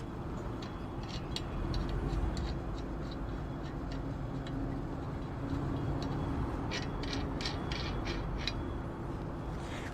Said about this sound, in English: continue to hand tighten the lug nuts